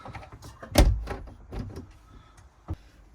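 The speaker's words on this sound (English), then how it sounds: "they've done the door so it definitely opens and closes a lot easier" A caravan door opening and closing, with a sharp knock near the start, a softer thud, then a brief click later amid light handling noises.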